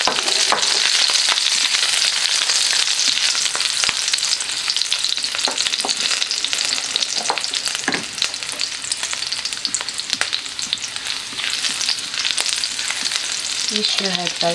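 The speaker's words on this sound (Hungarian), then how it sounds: "Ez egy pici olaj és egy pici vaj, és már is belekerül a chili." Chili frying in a little oil and butter, a loud, dense, steady sizzle and crackle close up, with occasional faint stirring clicks and no talking.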